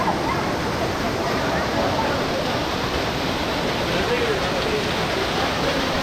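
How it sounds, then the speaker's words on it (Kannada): Kallathigiri Waterfalls near a temple in Chikkamagaluru, running at a low dry-season flow, give a continuous, fairly loud rushing roar that stays steady from start to finish. "ಫಾಲ್ಸ್ ಹತ್ರ ಬಂದಿದ್ದೀವಿ ಇವಾಗ"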